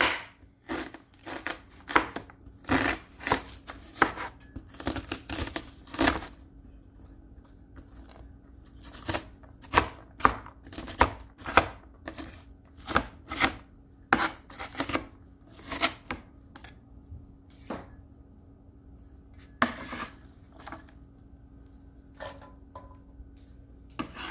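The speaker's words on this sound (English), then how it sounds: "And you can cut them any size you want." Steady knife chopping of onions on a cutting board, many sharp taps in irregular bursts, close by, with no talking.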